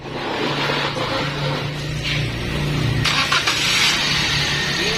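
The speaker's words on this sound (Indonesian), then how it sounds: "Jadi biar kita mendengarkan untuk suara mesinnya seperti apa." A Daihatsu Sigra family car engine starts and settles into a smooth, steady idle, heard up close as a continuous mid-pitched hum with a brief rise around the start.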